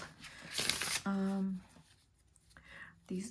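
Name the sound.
shuffling tarot cards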